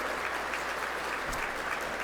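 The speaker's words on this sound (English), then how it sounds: "So big round of applause to our volunteers." Audience applause fills a breakfast event honoring volunteers: a dense, steady wash of many hands clapping at once, fairly close, with no talk over it for the full two seconds.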